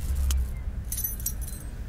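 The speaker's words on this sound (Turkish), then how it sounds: "Bir anahtar sesi geldi." A short, bright jingle of metal keys in the video game Poppy Playtime, a couple of quick rattles close up over a low rumbling background.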